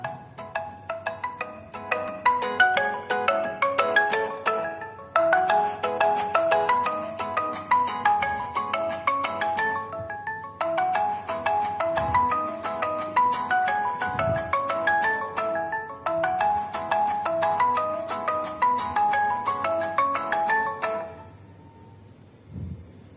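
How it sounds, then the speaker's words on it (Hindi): A Poco F1 phone ringtone plays loudly and alone, a bright melodic phrase repeating about four times in even cycles before it stops abruptly. "यहाँ पे दोस्तों पोको F1 का आपको रिंगटोन भी देखने को मिलेगा।"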